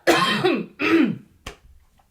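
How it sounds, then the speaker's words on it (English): Two loud, rough coughs close by, followed by a short throat-clearing hack, with no talking. "cough, choke"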